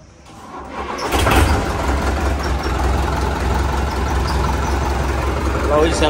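A 2018 model Sonalika tractor engine cranks and catches after about a second, then settles into a loud, steady diesel rumble close by, with brief voices in the background.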